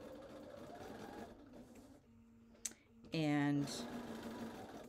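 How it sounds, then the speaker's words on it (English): Sewing machine briefly stitching a New York Beauty quilt block, a short close whirring burst of about a second that follows quiet talk and some handling noise. "Let's go to the machine. I'm going to turn it right side up, and I am going to sew between that background piece"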